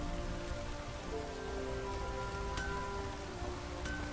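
Steady rain falls in the damp open world of the video game The Witcher 3: Wild Hunt, a constant soft patter on surfaces with faint tonal game ambience and no talk.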